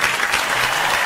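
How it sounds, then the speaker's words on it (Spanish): An audience at a talk applauds a guest with steady, dense clapping that fills the whole short moment, close and even, with no voices over it. "Así que con Enrique, un aplauso muy grande."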